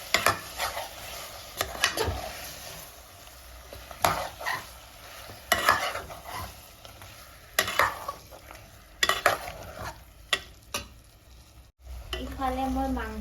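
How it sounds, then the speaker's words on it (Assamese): Chicken meat, including leg pieces, frying in a pan with ginger on a low gas flame, with repeated stirring scrapes and clatter of a utensil over a steady sizzle, close and fairly loud. "ইফালে মই মাংস ভাজি আছোঁ।"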